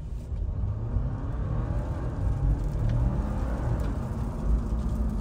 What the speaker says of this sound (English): So we're just going to kind of floor it from a stop.